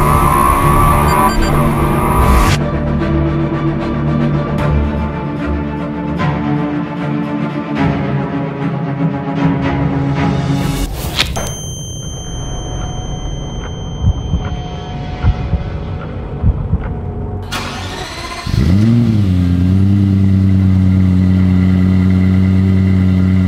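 Lexus LFA supercar engine heard up close, moving from a busy rough idle through fluctuating revs and a quieter stretch, then a sudden loud climb toward a high sustained wail near the end.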